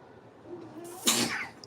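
A single sharp sneeze bursts out nearby during a live crafting session indoors, a quick breathy intake followed by a loud explosive release, then fading.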